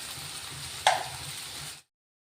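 Marinated prawns tipped into a hot pan to fry, a steady low sizzle with one brief sharp splash as they land, then cut off abruptly.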